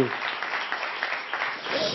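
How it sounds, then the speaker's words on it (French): Studio audience applause for the American drummer Harry on a French Sunday TV variety show, a steady wash of clapping held at an even level for two seconds. "On peut peut-être applaudir aussi votre batteur, l'américain Harry"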